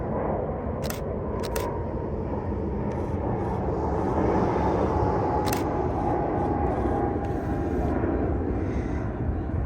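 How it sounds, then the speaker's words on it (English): Airbus A320 airliner passing overhead at an airport, a steady loud jet engine roar throughout, with sharp camera shutter clicks scattered over it. "it's just an A320 Neo"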